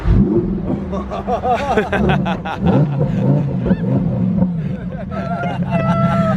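A Lamborghini Huracan Evo Spyder's engine fires up and revs near the listener, loud throaty bursts rising and falling, while people talk and exclaim over it.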